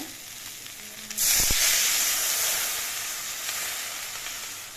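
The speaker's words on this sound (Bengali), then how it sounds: "মশলা দিয়ে আলুগুলো আমি বেশ কিছুক্ষণ কষিয়ে নিয়েছি এবার ঝোল দিয়ে দিচ্ছি" Water poured into a pot of spiced potatoes frying for a hilsa fish curry with green banana: a sudden loud sizzle and hiss that bursts up, then slowly settles into a steady bubbling hiss.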